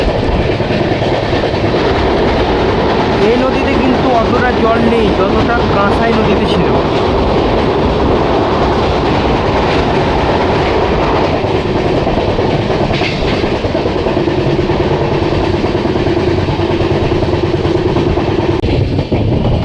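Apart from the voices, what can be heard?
train crossing the Dwarakeswar river bridge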